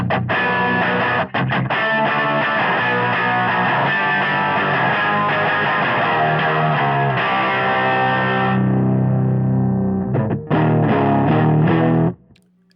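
Heavily distorted electric guitar through a Greathammer amp pedal, run direct, sounds as a thick, gritty sustained chord that rings for several seconds, changes to a new chord, then cuts off abruptly.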